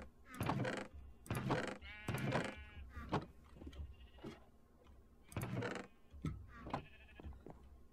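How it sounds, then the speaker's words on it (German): Sheep in the video game Minecraft bleat repeatedly, wavering, nasal calls arriving in bursts with short gaps, fairly close and moderately loud, with no talk. "Das sind einfach zu viele Schafe"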